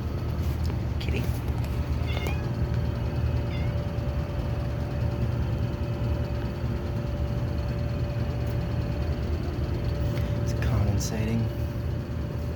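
A cat meows a few times, faint and brief, inside a house with a steady droning hum from a running Tempstar furnace and central air conditioner.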